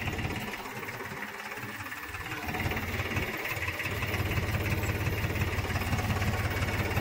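A tractor engine idles close by with a continuous, even throb and mechanical rattle that holds steady from start to finish.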